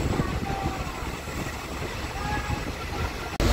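Steady rumble of a Tripura local demo train on the Agartala–Sabroom line running on rails, a dense continuous roar with faint clatter, ending in an abrupt jolt.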